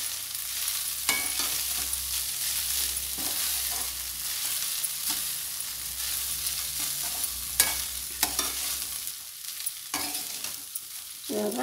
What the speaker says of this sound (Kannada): ಈಗ ಇವಾಗ ಚೆನ್ನಾಗಿ ನಾವು ಮಿಕ್ಸ್ ಮಾಡ್ಕೊಂಡ್ಬಿಡೋಣ